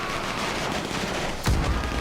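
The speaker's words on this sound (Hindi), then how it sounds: "और कितनी गोलियां चल रही है यार।" Gunfire in the GTA 5 video game crackles through a noisy battle din, building to a sharp, heavy burst of shots near the end.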